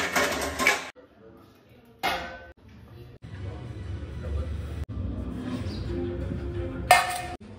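Plates and dishes clinking and clattering as they are handled at home during mealtime, a few sharp knocks and rattles separated by quieter stretches.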